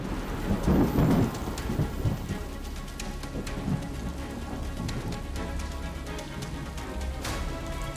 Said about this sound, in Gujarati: જુઓ ક્યાં કેવો વરસાદ છે